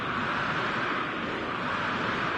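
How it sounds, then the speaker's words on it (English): Full stadium crowd in Amsterdam for an Ajax match in eFootball, a dense, continuous roar of noise with no breaks or individual voices standing out. "The stadium is full of noise and energy."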